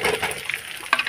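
A little water splashes into ground spices frying in a pan, giving a brief close wet splatter and sizzle that flares twice within about a second.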